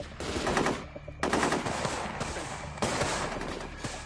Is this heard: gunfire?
yes